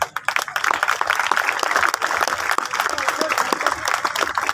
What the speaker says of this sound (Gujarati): આપણે સૌ તાળીઓના ગડગડાટથી